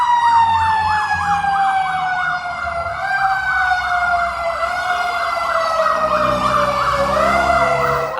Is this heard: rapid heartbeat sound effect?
no